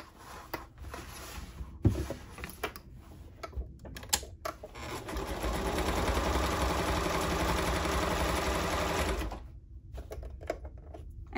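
A sewing machine stitches a tool belt with a 2 to 2.5 stitch length, running in one steady whirring burst of about four seconds between quieter handling noises, close and fairly loud.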